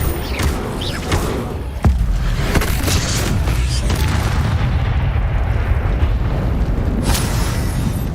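Confringo explosion spell cast in Hogwarts Legacy: a sharp boom near the two-second mark rolls into a dense, sustained rumble that stays loud to the end, with fainter bursts scattered before it.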